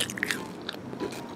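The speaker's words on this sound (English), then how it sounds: "Crunch it, there's hard candy on the inside." Hard candy crunched between the teeth at close range, with a few sharp bites followed by quieter chewing and no talking.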